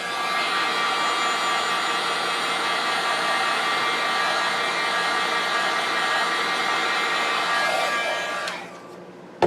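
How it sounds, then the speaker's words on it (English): A heat tool for embossing blows steadily and loudly close by, a constant whooshing hum that runs for several seconds before it cuts off abruptly near the end. "you can just use your heat tool, let it heat up a little bit first"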